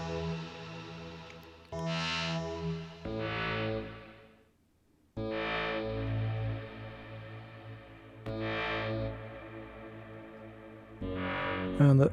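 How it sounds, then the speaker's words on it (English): Hyperion synth chords ring out through reverb with its low cut turned down, several sustained distorted, chorused notes with full low end and long echoing tails, a short near-silent pause between phrases. "Turning down the low cut value enables more of the low end within the reverb itself."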